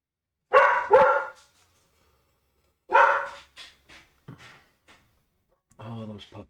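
A group of puppies bark in short bursts at moderate distance, with pauses between volleys and quieter yips in the gaps.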